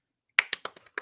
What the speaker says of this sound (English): Vivian, we're giving you a clap.